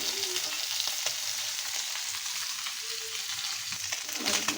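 Small fish frying in hot oil in a home kitchen, a constant crackling sizzle with occasional stirring scrapes, close and steady throughout.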